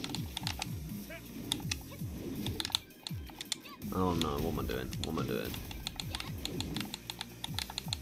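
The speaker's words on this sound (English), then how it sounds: "Sorry for all the button clicking." Rapid clattering button presses on a game controller during a Tekken 7 match run throughout as a dense stream of small clicks, mixed with game sounds and a person talking over them.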